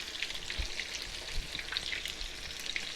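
Thin breaded chicken fried steak browning in a pan of hot oil, sizzling steadily and closely with a dense crackle and scattered sharp pops, and no voices.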